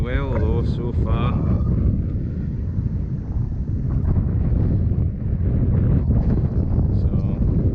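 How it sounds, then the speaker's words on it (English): Strong wind gusts across an open field, a continuous loud roar buffeting the microphone throughout, with a brief vocal sound near the start. "Very windy today actually."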